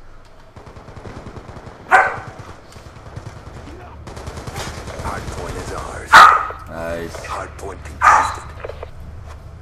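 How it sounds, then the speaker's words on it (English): A dog in Call of Duty: Black Ops 2 Hardpoint league play gives three loud, sharp barks spaced a few seconds apart, among game gunfire and effects, while a player talks and an announcer voice speaks. "This dog just barks at herself."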